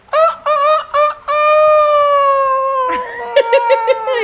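A child imitates the crow of a young rooster, voicing several short crowing bursts and then one long drawn-out crow that trails into a few hoarse clucking notes, loud and close.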